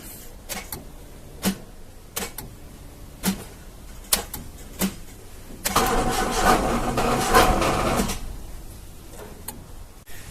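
A Honda engine cranking after a valve adjustment, with several short starter bursts at even intervals, then a longer stretch of rough cranking that fails to catch and dies away, all close and alone.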